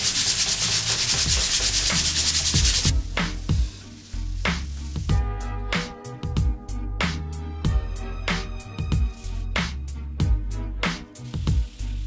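A sports steering wheel is sanded by hand with sandpaper, first a continuous loud scrubbing stroke, then a rhythmic series of short back-and-forth rasps, close up with no talking.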